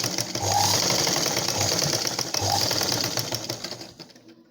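Sewing machine running steadily while stitching a blouse shoulder seam twice, a loud continuous mechanical whir with two short bursts of faster stitching, close and alone, tapering off at the end.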